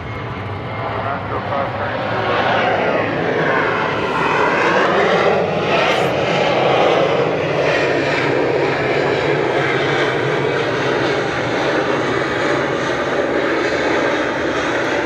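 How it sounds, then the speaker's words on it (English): A loud, sustained roar from the engines of a nearby Delta Airbus A321neo at Atlanta Hartsfield-Jackson International Airport fills the whole stretch, swelling slightly and holding steady. "That's A321neo making all that noise, Delta Airlines."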